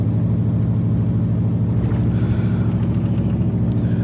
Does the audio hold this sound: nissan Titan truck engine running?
yes